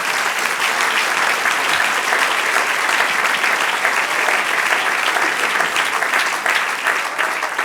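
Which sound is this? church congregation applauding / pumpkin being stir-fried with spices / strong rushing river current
church congregation applauding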